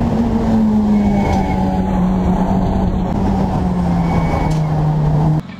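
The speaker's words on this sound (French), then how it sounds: "je vais mettre des extraits des freinages sur piste, c'est énormément de bruit" A Renault Clio 2 RS SimiliCup track car on a race track, its brakes squealing loudly with a steady, slowly falling whine over continuous engine and road roar, close by, ending abruptly.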